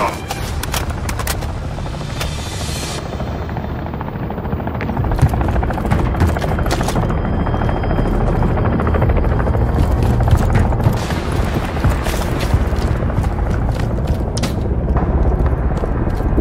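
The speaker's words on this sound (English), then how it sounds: "Kony armored helo is overhead." Armored helicopter in Call of Duty Modern Warfare 3, a loud continuous rotor roar overhead mixed with booms and gunfire bursts throughout the battle scene.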